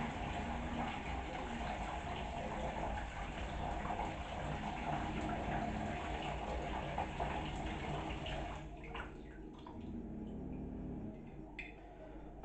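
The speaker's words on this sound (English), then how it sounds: "So what we want to do is empty the sterilising water out." Sterilising water swirls in a bottle and gushes out while homemade wine gear is being prepared, a steady loud rushing pour that thins out and stops near the end.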